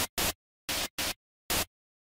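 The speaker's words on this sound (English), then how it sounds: "select the noise oscillator because we wanted to use some white noise" White noise from the Serum synthesizer's noise oscillator, played in four short loud bursts of broadband hiss separated by silence, uneven in spacing and without speech.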